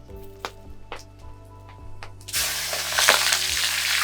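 Ingredients dropped into a pot of hot oil on a stove, a few soft knocks and taps before a sudden loud, bright sizzle of frying that carries on steadily to the end.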